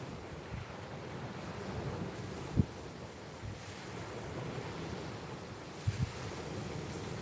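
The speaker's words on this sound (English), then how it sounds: "Tide pushes in." Incoming tide waves washing onto a shore during night bass fishing, a continuous wash of surf blended with wind noise on the microphone, with a few faint knocks nearby.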